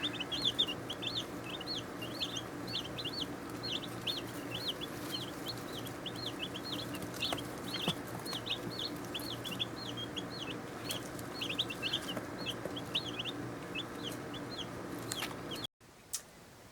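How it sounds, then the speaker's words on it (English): Many small chicks cheep in quick, repeated high peeps, steady and close, over a low hum of background noise. "The chicks are happy."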